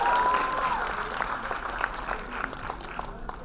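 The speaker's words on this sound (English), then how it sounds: "Let's give them a big round of applause." Audience at a 2014 design academy fashion show claps steadily, a dense sustained wash of applause that slowly tapers, with a voice over a microphone briefly heard on top.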